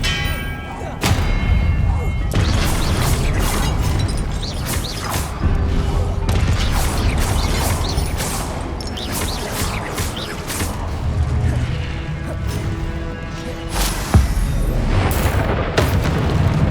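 Confringo blasting spells in Hogwarts Legacy set off repeated loud booms and thuds amid continuous combat clatter, with a voice calling out spell names throughout.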